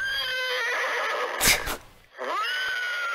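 A horse neighs in the horse-racing betting game Digital Downs, a loud, close whinny that peaks in a harsh burst midway and trails into a fading, wavering call.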